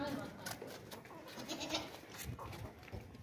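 A black goat offered for the 2024 Qurbani sacrifice bleats several times at a livestock market, mixed with people talking and general crowd noise.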